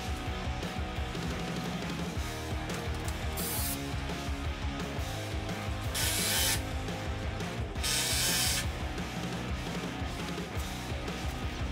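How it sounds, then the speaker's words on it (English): A power drill driving screws to fix suspended garage storage platforms to the walls, with repeated whirring runs and ratcheting clicks, plus several louder bursts of driving close by. "we did the same thing for the second and third platform, screwing them all the way around to the walls"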